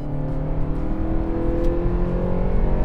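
A Lada Vesta Sportline's engine revs hard and steadily under acceleration, a loud, continuous drone with rising harmonics that holds for the whole stretch without a break.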